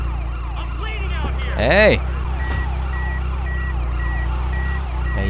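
An ambulance siren in GTA Chinatown Wars wails continuously in repeated rising and falling sweeps, with a brief louder swell near the middle and a short shouted word from a voice over it.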